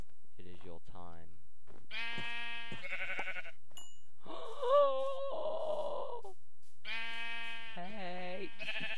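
Minecraft sheep bleat several times in clear, nasal calls, including one longer wavering bleat in the middle, against a quiet game background.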